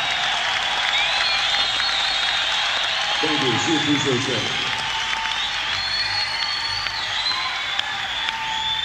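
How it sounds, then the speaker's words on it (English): Audience applause at a concert in Boston plays as a steady wash of clapping under someone speaking into the microphone, with a brief burst of louder crowd noise midway. "you should give an enormous round of applause to Bianca for her wonderful job in that song"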